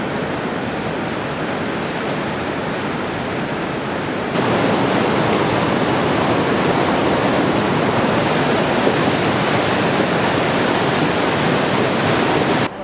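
A river rushes beneath an old bridge on a Nepal trekking route, a steady broadband roar of flowing water that grows louder and fuller partway through and stays constant, with no voices.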